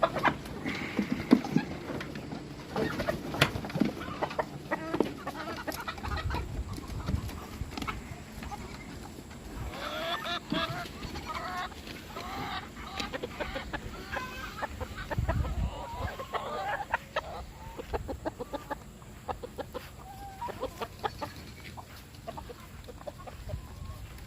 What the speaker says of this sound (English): But it's time to release the chickens.